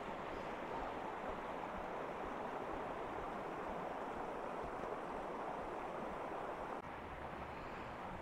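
The Wutach river in the Black Forest, fed by side valleys, flows with a steady, faint broadband rush of water, unbroken and without voices.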